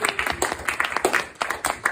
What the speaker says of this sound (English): Stop clapping because I'm not good at it.